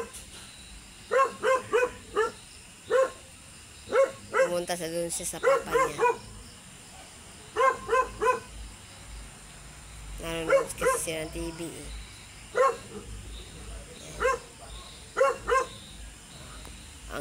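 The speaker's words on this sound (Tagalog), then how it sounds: "Ang ingay ng aso dito sa kabila guys." A neighbour's dog barking next door in repeated sharp bursts with short gaps, fairly close, while a person talks over it.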